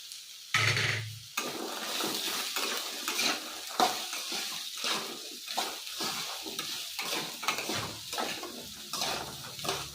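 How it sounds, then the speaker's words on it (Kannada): Ridge gourd and soaked green peas fry in an oil pan, a steady sizzle with repeated scraping and clinking of a spatula stirring against the metal, close and alone without talk. "ಹೀರೆಕಾಯಿ ಹಾಕಿ ಸ್ವಲ್ಪ ಚೆನ್ನಾಗಿ ಫ್ರೈ ಮಾಡ್ಕೊಳ್ಳೋಣ"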